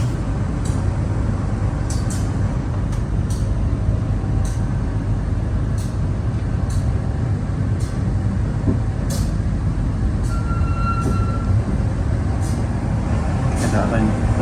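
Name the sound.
CC201 diesel locomotive train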